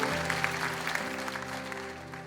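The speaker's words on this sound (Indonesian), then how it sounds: "Tepuk tangan bagi itu" A congregation applauds during a church sermon, the clapping fairly faint and layered over sustained music tones, fading a little as the short clip ends.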